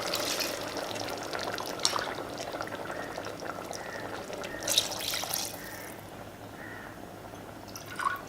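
Water is poured into a pot of Chettinad mutton biryani, giving a soft, steady trickle with light splashes and a gentle bubbling close by, and no voices.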